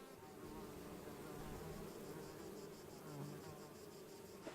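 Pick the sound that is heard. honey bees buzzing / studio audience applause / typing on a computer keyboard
honey bees buzzing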